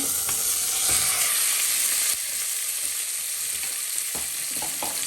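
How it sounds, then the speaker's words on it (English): Meat sizzles and fries loudly in a hot pan, a constant crackling hiss with a few soft scrapes and stirs. "then you'll start frying your beef"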